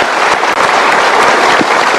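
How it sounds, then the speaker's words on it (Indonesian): A studio audience at an Indonesian motivational talk show bursts into loud, dense clapping for participants who chose an answer, a brief continuous round of applause. "kita berikan tepuk tangan untuk yang sudah memilih A,"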